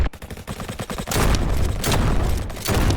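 Shotgun fire in a Roblox Call of Duty–style game: a quick series of sharp shots, then heavy, loud blasts with explosive booms layered together in a dense barrage.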